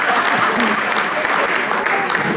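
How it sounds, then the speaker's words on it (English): Loud, dense applause from a seminar audience greeting a speaker at a leadership talk, close and continuous, with faint voices mixed into the clapping. "Please give her a round of applause."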